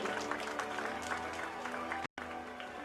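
Applause at a primary school function welcoming a guest, a dense continuous patter of many hands from a crowd, fairly steady with a brief dropout near the end, mixed with faint crowd voices.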